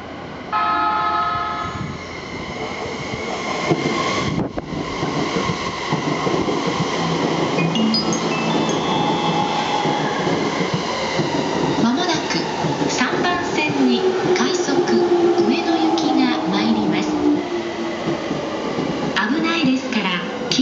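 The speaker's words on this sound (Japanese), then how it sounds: "4番線快速取手行き電車到着です。" A JR E231 series Joban Line rapid train, a 5+10-car set bound for Toride, pulls into Nippori station with a long rumbling roar and brake squeals, a horn toot near the start, over platform announcements.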